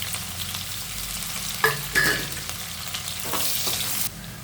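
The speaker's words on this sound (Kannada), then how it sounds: "ಎಣ್ಣೆ ಕಾದಿದೆ, ಸಾಸಿವೆ ಹಾಕೋಣ, ಸ್ವಲ್ಪ ಈರುಳ್ಳಿ ಹಾಕ್ತಾಯಿದ್ದೀನಿ, ಮತ್ತು ಕರಿಬೇವು." Mustard seeds, onion and curry leaves frying in hot oil for an egg sambar, a steady close sizzle with a couple of sharp spits and crackles partway through, no voices.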